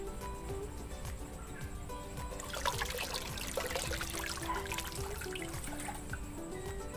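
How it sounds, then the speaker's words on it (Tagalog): Two and a half cups of water pour into a cooking pot for a fish soup, a steady splashing trickle heard up close and alone, swelling slightly midway through. "maglalagay tayo ng 2 and 1 half cups ng tubig dito sa ating kaldero"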